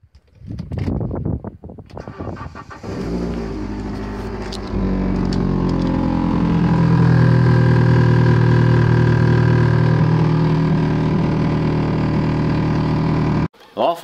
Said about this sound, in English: My back box collapsed. So it wasn't just it suddenly got loud, it got horrendously loud